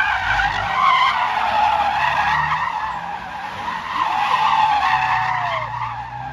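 A car loses grip and spins out while being backed in on a track, tires skidding and squealing loudly and continuously in long, wavering sweeps, with engine drone underneath and no voices.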